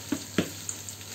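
Sandwich filling stirred in a hot pan with the flame off, giving a low sizzle with two short scraping stirs close up.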